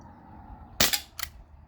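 A Glock 19X Gen 5 BB pistol running low on gas fires its last shot: a single sharp, close pop with a brief rattle, then a second smaller click-like burst shortly after in a quiet room.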